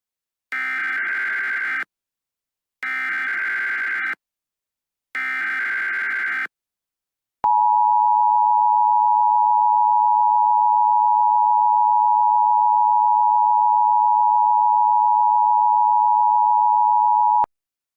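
Emergency Alert System attention tones during a national emergency action notification: three short, loud data bursts followed by a long, steady, unbroken electronic tone.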